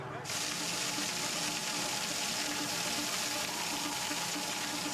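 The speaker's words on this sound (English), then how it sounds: "using water from a friendly fire crew to gradually increase the weight in a skip" Water from a fire crew's hose steadily gushing into a skip to add weight during a rope load test, a loud, continuous rushing hiss that holds steady throughout.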